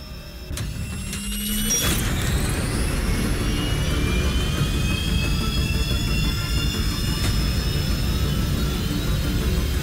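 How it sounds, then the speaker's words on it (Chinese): A jet aircraft engine in the video game Bright Memory: Infinite spools up after a short mechanical start, its whine rising at about two seconds and then holding as a loud, steady roar with no speech. "当我倒数到一时，请启动引擎"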